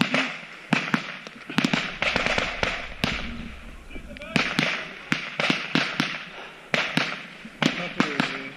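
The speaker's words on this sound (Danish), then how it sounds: "Den her er en, der bliver skudt kraftigt over på bygning 7." Heavy gunfire directed at a building during an attack: a dense string of sharp, cracking shots in irregular bursts, some near and loud, with voices talking in between.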